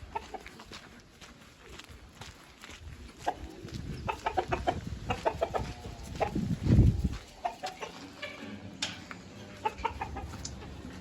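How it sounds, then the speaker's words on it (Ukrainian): Bantam chickens clucking and murmuring close by, with short repeated calls and soft chatter scattered over a low outdoor background. "І курі карликові."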